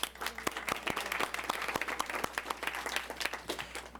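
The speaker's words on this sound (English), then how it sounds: "Let's give her a round of applause, everyone." Scattered audience applause breaks out at a school district board meeting, individual hand claps ringing out distinctly in a quiet hall, moderately faint and sparse rather than thunderous.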